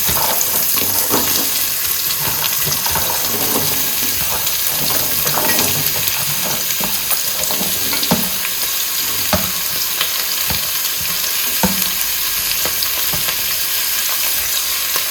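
Tri-colour mixed vegetables and peas frying for palak pulao, a continuous loud sizzle with repeated stirring scrapes throughout, close up and without speech.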